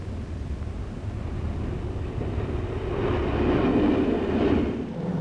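A train rumbles steadily past through snow, a continuous low roar that swells louder toward the end, with no voices.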